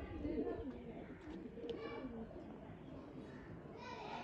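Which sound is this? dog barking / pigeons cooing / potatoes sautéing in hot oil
pigeons cooing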